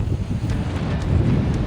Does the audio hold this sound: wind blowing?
yes